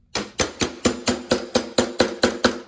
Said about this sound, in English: we're just going to tap this cap down